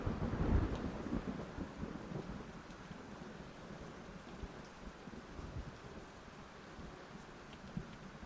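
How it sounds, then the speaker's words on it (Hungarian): Thunderstorm ambience in the PC game Max Payne: a low rumble of thunder near the start, then steady rain and soft rolling thunder carrying on throughout, moderately loud with no talk. "Zivatarok."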